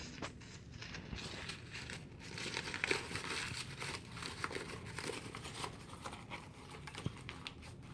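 Paper being crumpled and folded for monotype printmaking textures, a faint, close run of dry crinkling and crackling bursts that continues throughout without a voice.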